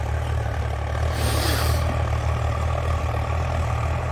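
A Sonalika MM45 diesel tractor pulling a cultivator runs at a steady, low rumbling drone, close and continuous, with a brief hiss partway through.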